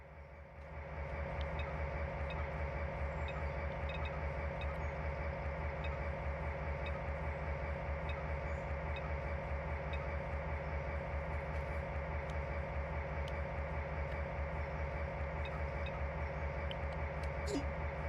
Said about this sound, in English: You take the rear locomotive to Parker's, and I'll drive this train back to Richmond Yard.